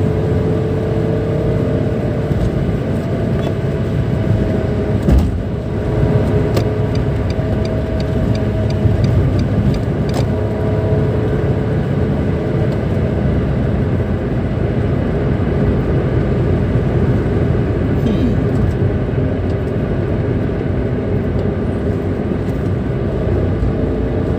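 Steady drone of a Nissan March L 1.2 manual hatchback cruising on the Cipularang toll road, heard from inside the cabin, with constant engine hum and road noise running loud and unbroken and small shifts partway through.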